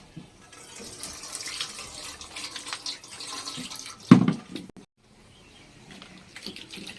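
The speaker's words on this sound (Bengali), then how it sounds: "আমি এখন এটাকে ভালো করে ধুয়ে নেবো" Water sloshes and splashes as flattened rice (chira) is washed in a large bowl, with a sharp louder splash midway and quieter swishing before and after; no speech.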